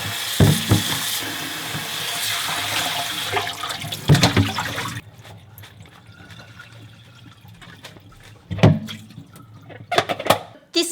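Running water from a kitchen tap rinses shredded cabbage, a steady loud gushing that then drops to quieter splashes and handling noises.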